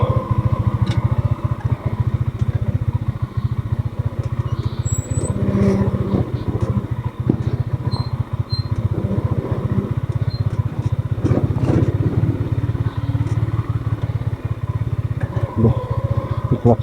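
A motorcycle engine runs steadily and close by throughout, a continuous low throbbing drone on a rough mountain road from Tacadang to Alilem, Ilocos Sur, with occasional faint voices over it.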